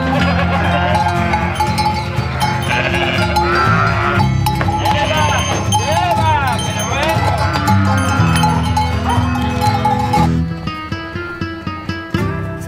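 A flock of sheep and goats being sorted on a Spanish farm bleat continuously, many overlapping loud calls near and far, with bells clanking and a person talking partway through.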